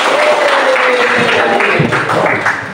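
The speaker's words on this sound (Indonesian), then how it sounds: "tepuk tangan Pak" A group of participants in an academic coaching session claps together in sustained, fairly loud applause for a few seconds.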